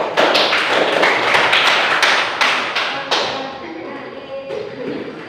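A small group applauds after a classroom presentation on making herbal rice-and-kencur drinks, a burst of uneven clapping that tapers and thins out over several seconds.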